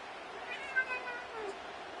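A cat lets out a faint, short meow at a moderate distance, set against quiet background noise.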